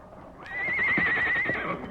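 Frightened horses give a loud, drawn-out whinny up close, rising and wavering for over a second, with hoof clip-clop underneath as they stir ahead of an approaching fire.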